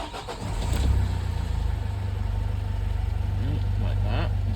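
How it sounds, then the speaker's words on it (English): A Vauxhall Vivaro van's engine cranks and catches, then settles into a steady diesel idle with a strong low rumble. It is heard close and loud for several seconds. "And we can start the vehicle."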